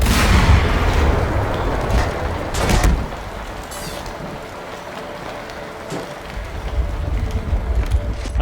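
Automated turrets firing bursts at enemies in Entropy: Zero 2, a sustained rattle of gunfire with heavier booms near the start and middle, loud and continuous over dense game noise.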